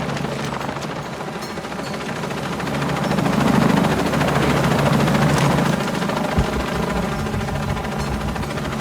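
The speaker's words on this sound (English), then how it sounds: "I'm in a chopper." A helicopter in the video game Shadow of the Tomb Raider flies with a loud, steady rotor thrum and engine drone that swells louder midway, then holds on without any talking.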